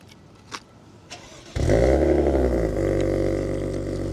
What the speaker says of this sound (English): So if we start this up, double tap this button, we can bring it to life.